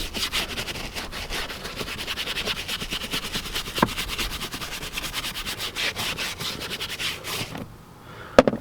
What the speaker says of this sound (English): the cleaner is being agitated and it is now lifting all the dirt